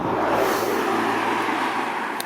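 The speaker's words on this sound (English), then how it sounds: "There was a car coming." A car passes on a misty coastal road on a New Year's Eve bike ride near Dolgellau, a steady broadband roar of tyres and engine heard from close by, mixed with wind noise, with no talking.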